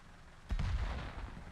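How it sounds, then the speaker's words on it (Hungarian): Gunfire from players shooting in a video game: a single heavy boom-like shot with a rumbling low tail, sudden and fairly loud against faint background noise. "A gyerekek random lövöldöznek rátok."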